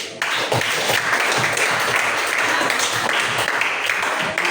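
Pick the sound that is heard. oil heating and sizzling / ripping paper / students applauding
students applauding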